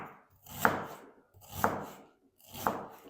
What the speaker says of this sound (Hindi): जितना बारीक आप प्याज की कटिंग करेंगे उतना ये ज़बरदस्त प्याज आपका फ्राई होगा।